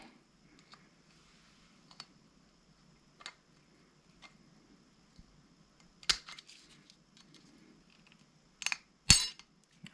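Small metallic clicks and taps while the intake clamp is taken off a Husqvarna 346 XP chainsaw during a top-end rebuild, mostly quiet with a few sharper clinks near the end.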